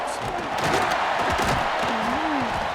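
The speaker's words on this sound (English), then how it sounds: "This crowd ready to make its presence known" Stadium crowd roaring in College Football 26 during a USC vs UCLA kickoff return, a dense, loud, sustained wall of cheering with a tonal horn-like whistle sliding through near the end.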